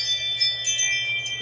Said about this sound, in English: excuse the doorbell there again